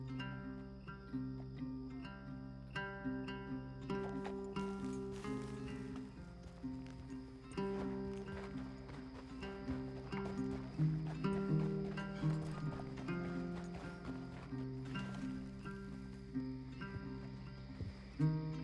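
Horse hooves in Red Dead Redemption 2, a steady clip-clop of a ridden horse trotting along under game music, moderately loud and continuous, with an occasional snort.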